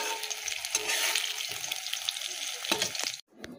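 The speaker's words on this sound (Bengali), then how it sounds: "পটলগুলো দেখতে পাচ্ছ সব ভাজা হয়ে গেছে" Pointed gourd (potol) pieces frying in a pan, a bright continuous sizzle with a few stirring clatters before it cuts off abruptly near the end.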